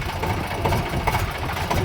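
A tractor engine idles low and steady throughout, a continuous rumbling drone with slight fluctuations and no break.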